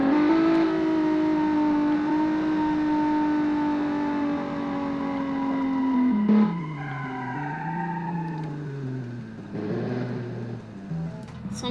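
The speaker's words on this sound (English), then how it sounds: "You can hear that 4-cylinder and just scraping it so much." Racing video game car with a four-cylinder engine scraping along as it runs off course on a road course, a steady loud engine drone with shifting pitch, dropping and wavering in the second half.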